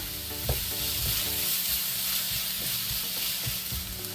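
Oil sizzles steadily in a pan as onions and green chillies are sautéed for Kerala-style egg roast, with a spoon scraping and stirring in irregular knocks throughout; no one speaks.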